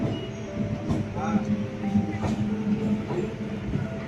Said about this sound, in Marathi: पाहू शकतो ही ट्रेन आली समोर